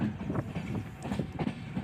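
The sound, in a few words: Mysuru-Shirdi Express train arriving at Chitradurga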